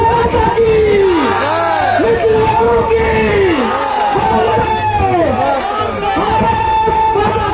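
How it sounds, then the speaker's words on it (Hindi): A wedding crowd at a Bihar garland ceremony shouts a patriotic slogan in loud, sustained unison, with overlapping yells and cheers filling the whole stretch and no pause. "देशभक्ति के इस नारे के साथ जयमाल संपन्न हुआ।"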